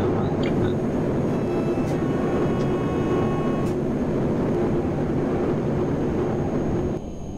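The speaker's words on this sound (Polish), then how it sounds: "Te dźwięki hamowania są jeszcze do dopracowania." Locomotive braking in the MaSzyna train simulator: a steady, loud mechanical rumble with faint high tonal squeals and brief clanks, continuing for several seconds before easing slightly at the end.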